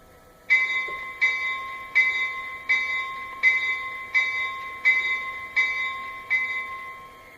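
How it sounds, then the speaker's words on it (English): A Lionel Legacy SD40-2 model train locomotive's electronic bell rings steadily, about ten evenly spaced metallic clangs, clear and close with no talking. "now I'm going to play the bell"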